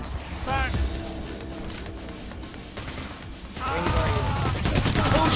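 Gunfire rattles in rapid bursts in the heist shooter PAYDAY: The Heist, dense and continuous under game noise, rising louder toward the end while players talk excitedly.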